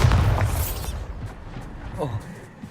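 Bombarda spell explosion in the video game Hogwarts Legacy, a loud booming burst at the start that rumbles and fades over about a second, followed by softer scattered game noises.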